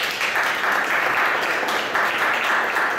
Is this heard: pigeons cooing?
no